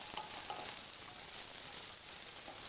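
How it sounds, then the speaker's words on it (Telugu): Bay leaf and green chillies fry in a pan for Telugu coconut rice, a steady close crackling sizzle with a few brief stirring clinks and no voices. "పచ్చిమిర్చిని కూడా యాడ్ చేసి"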